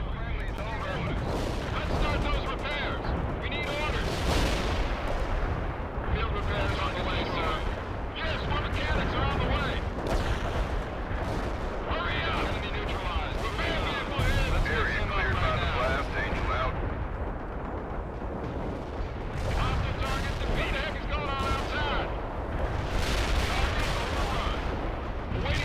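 Battlefield combat in the World in Conflict video game: dense, continuous gunfire and heavy artillery booms roll on without a break for the whole stretch, loud and chaotic, with radio-style voices talking over the fighting at times.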